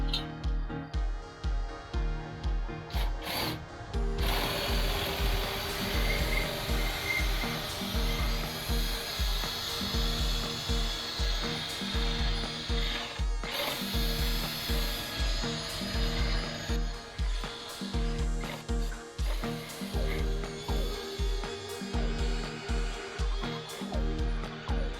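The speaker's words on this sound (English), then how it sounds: "we're going to use the drill, the obscenely long drill bit, and we're going to drill our first hole" A drill fitted with an extremely long bit bores through the wooden wall of a damaged barn, a loud continuous grinding with rhythmic chatter that ends in a brief pause and resumes, with no talk.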